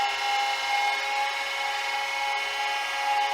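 A wood lathe spins a pen blank for a slimline kit pen at about 2,500 to 3,000 rpm, giving a steady, close whine with a constant hum and no cutting bursts or talk.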